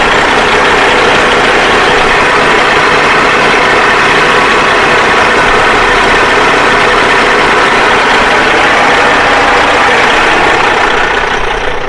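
A struggling truck engine idles loudly and steadily at close range, a dense continuous rumble with a rough, uneven low-end texture and no voices over it.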